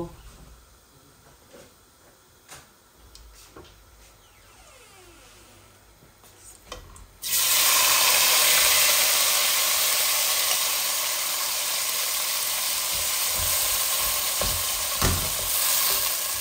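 Onions dropped into hot oil in a pan for a radish and bean curry: a quiet stretch with light clinks, then a sudden loud, sustained close sizzle that holds steady to the end.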